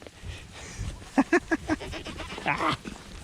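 Boer goats on a farm bleating close by, a run of four short loud bleats followed by a longer one, over faint background movement.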